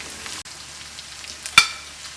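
Quarter teaspoon of turmeric powder frying with sautéed onions in a pan, a soft steady sizzle with one sharp clink of a spoon near the end.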